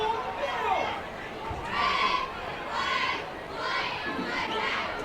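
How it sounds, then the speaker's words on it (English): High school cheerleaders cheering at a football game, rhythmic bursts of shouted chanting rising and falling in repeated waves, moderately distant amid crowd noise. "Our Searcy High cheerleaders cheering our guys on"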